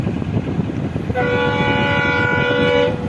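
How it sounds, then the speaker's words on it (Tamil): A train rumbles close by crossing the Pamban bridge at 100 km/h, then its horn blares loudly and holds steady for about two seconds over the rolling noise. "ரொம்ப சவுண்டாக ஒலி எழுப்பிட்டு வந்துகிட்டே இருக்குது ட்ரெயினு"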